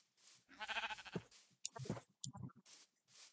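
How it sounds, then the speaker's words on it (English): A sheep in the video game Minecraft bleats several times in short, wavering calls, close and clear, separated by brief clicks and quiet gaps. "Wait, sheep, give me your meat"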